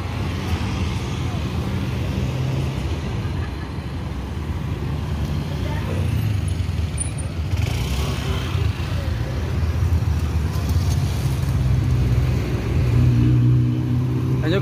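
A flag-race class NPM bus arrives from the Jakarta direction, a steady loud engine rumble with rising revs and road noise throughout, under ongoing traffic and a voice talking.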